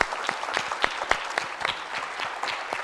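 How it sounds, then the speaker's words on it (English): An afternoon forum audience in Kenya applauds its panelists with steady, moderately distant clapping. It is a dense patter of many hands, with a few louder individual claps standing out and no voices. "A round of applause for our panelists this afternoon."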